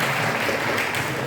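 A brief burst of dense audience applause at a leadership talk, steady and full from start to finish.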